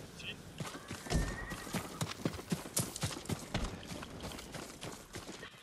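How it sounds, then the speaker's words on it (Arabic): In the video game Ghost of Tsushima, a horse's hooves clip-clop in a quick galloping rhythm, with a clear neigh rising early on, close and prominent over background game ambience. "شي حس حصان هذا"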